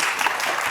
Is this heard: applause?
yes